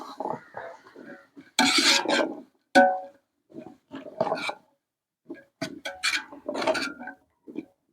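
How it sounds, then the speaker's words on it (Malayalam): Split small onions being stirred in a cooking pot make intermittent scraping and rasping strokes with short gaps, close and moderately loud, alone without talk. "നമുക്ക് നിന്ന് ഇളക്കി കൊടുക്കാം."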